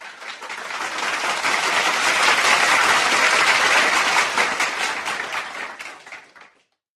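Crowd applause swells in, holds as a dense, even roar of clapping, then tapers and cuts off abruptly, with no voices over it.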